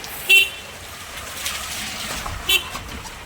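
In rain, a vehicle arrives and sounds two short horn toots about two seconds apart over a soft steady hiss of rainfall.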